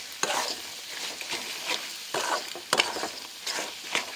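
Crab curry with turmeric sizzles in a pan as it is sautéed, with rhythmic stirring strokes producing repeated bursts of scraping and frying hiss, close and clear.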